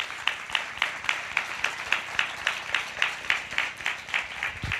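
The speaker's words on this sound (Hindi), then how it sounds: "आओ ताली बजाए परमेश्वर के वचन के लिए।" A church congregation claps along in a steady, even rhythm, about four claps a second, loud and sustained throughout.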